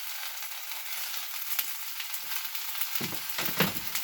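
Carrots, tomatoes and onions sizzle in a pan with a continuous bright hiss, then a spoon scrapes and stirs them in a few close clatters near the end.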